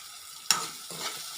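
Turmeric powder and green peppercorns being stirred into a frying pan, with a sharp scrape of the spoon followed by soft sizzling and a second, gentler stir, close and fairly quiet.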